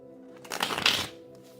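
A deck of Egyptian tarot cards gets a single quick riffle shuffle close by, a brief papery flutter lasting under a second against a faint background hum.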